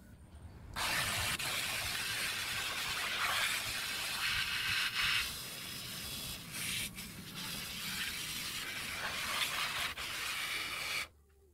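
A water sprayer washes a screen-printing screen, giving a steady, loud hissing spray that runs continuously for about ten seconds with slight changes in pressure, then cuts off abruptly.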